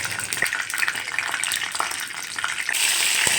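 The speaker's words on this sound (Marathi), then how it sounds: "तेल गरम झाले की त्यात राई," Mustard seeds and cumin hitting hot oil in a kadhai, a dense crackling sizzle with scattered pops that swells louder and steadier toward the end, close and alone.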